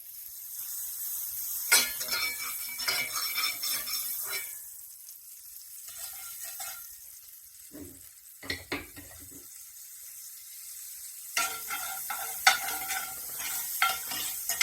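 Butter melting in restored cast iron pans over high heat, a soft hiss and sizzle with intermittent clanks and scraping as the pans are handled, in uneven bursts and quieter stretches.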